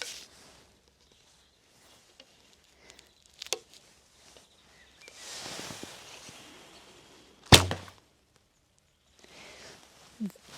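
Recurve bow, the Zhu Ran by AF Archery at 35 lbs with a fast flight string, shot in a few separate releases: short dark thumps of the string with one sharp, loud snap near the middle, between quiet stretches and faint rustling.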